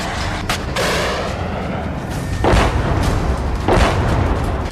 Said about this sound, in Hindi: रूस की सेना सोलेदार पर बमबारी करने के लिए मोर्टार और रॉकेट का इस्तेमाल कर रही है।